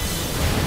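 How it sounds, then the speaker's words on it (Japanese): An explosion in the mobile game Final Fantasy Record Keeper, an elemental weakness attack on the Ark boss: a dense, sustained boom with a rumbling low end, loud and steady throughout with no voice over it. "そして爆発"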